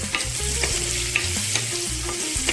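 Onions fry in hot oil in a pan with garlic, dried red chillies and green chillies, a steady close sizzle with faint stirring underneath that carries on without a break and with no talking.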